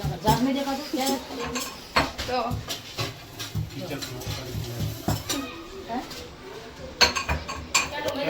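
Home kitchen sounds as a mother cooks vegetables: metal pots and utensils clink and scrape in uneven knocks and stirring, moderately close, with people talking over them.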